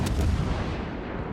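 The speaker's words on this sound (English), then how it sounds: "Hopefully we can get her with the next barrage." Main guns of the Hipper heavy cruiser in World of Warships fire a heavy barrage, a loud booming blast that rolls away into a long, fading rumble.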